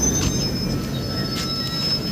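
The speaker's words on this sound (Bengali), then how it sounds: "কত বড় মালগাড়িটা দেখুন।" A freight train rolls past, its wheels giving a sustained high metallic squeal over a constant heavy rumble, loud and close throughout with no pauses.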